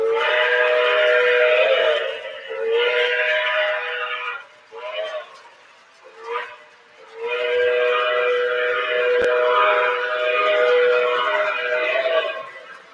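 A model steam engine toy train sounds its whistle at slow speed: loud, sustained multi-tone blasts with a few short breaks and dips before the whistle resumes for a long final stretch.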